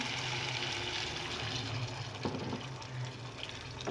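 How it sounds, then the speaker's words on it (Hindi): A glass of water pours into a pot of aloo chicken curry as it cooks, giving a continuous gushing, splashing flow close up that lasts the whole moment. "1 गिलास पानी में डाल रही हूँ"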